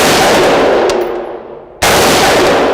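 A Colt Commando-style AR-15 clone rifle (631/XM177 type) firing reloaded rounds outdoors: loud, dense broadband noise that sags briefly, then an abrupt sharp burst returns at full loudness.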